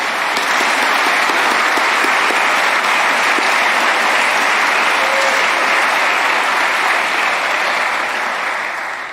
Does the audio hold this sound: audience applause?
yes